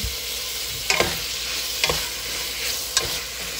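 Tomatoes go into a hot frying pan for a Korean sweet chili spaghetti sauce, with a steady sizzle under several sharp scraping stirs of a utensil against the pan.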